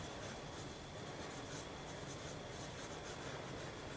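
Steel wool rubbed lightly over the metal of an M1 Garand rifle gives a continuous close-up scratchy, hissing rasp.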